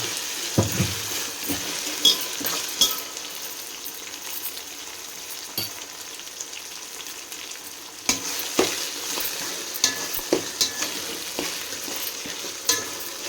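Ginger garlic paste sizzles in hot oil in a pan while a spoon scrapes and stirs it, with a steady fry hiss punctuated by repeated sharp clinks and scrapes throughout.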